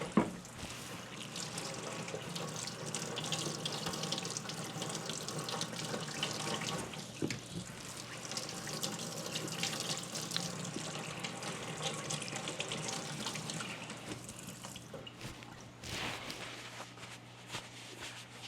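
A kitchen tap runs steadily for a quick rinse, a close, continuous splashing stream into the sink that carries on for most of the stretch with a few clatters and dips near the end.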